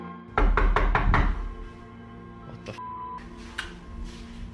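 A series of about five loud, rapid knocks on a back door of a house, close and sharp, followed by quieter ambient room sounds with a couple of faint thuds; no one speaks.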